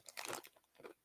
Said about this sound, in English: Can you guys hear the crunching of the chips in the mic?